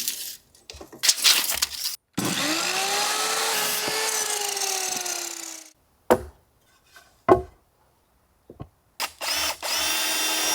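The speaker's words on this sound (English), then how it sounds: "I started cutting out 2x4s to frame out the floor" A power saw cuts 2x4 lumber for framing an outhouse floor. One long whining cut of several seconds drops slightly in pitch under load, followed by short bursts of cutting and spinning up, separated by silences.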